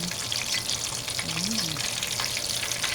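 Salt and pepper chicken pieces, turned golden brown, fry in hot oil with a dense, steady sizzle and crackle close by. A brief murmur of voice shows faintly under it.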